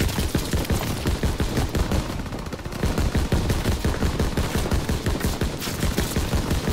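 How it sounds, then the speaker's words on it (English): Heavy automatic gunfire aimed at the player in Call of Duty: WWII: dense, rapid, continuous bursts from several weapons that overlap into a loud barrage, with only a brief thinning partway through. "Stop shooting me with heavy bullets."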